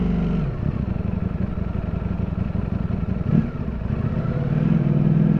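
A 2022 Ducati Streetfighter V4S motorcycle ridden through New York City streets, its engine droning steadily up close with a brief rev in the middle and a rise again at the end.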